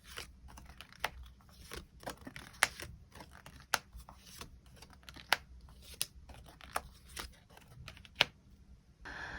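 Tarot cards are drawn and handled in a quiet room: soft, close card snaps, taps and shuffling rustles come in an irregular rhythm with no talking.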